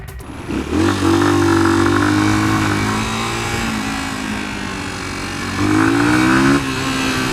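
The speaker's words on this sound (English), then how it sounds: "it gives that extra Brap when you go throttle out, full throttle" A Honda XR125L motorcycle with stock exhaust revs hard twice, rising to a loud throaty roar and dropping back to a steady idle in between, close by.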